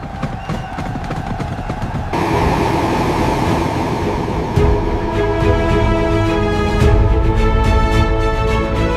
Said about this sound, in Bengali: রেলগাড়ি এসেছে